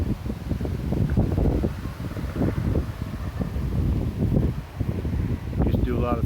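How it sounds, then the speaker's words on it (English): Strong wind buffeting the microphone while a motorcycle cruises on a hot summer day in Kent and Ottawa Counties, a steady low roar with gusty fluctuations throughout, and someone briefly speaks over it. "Very breezy today."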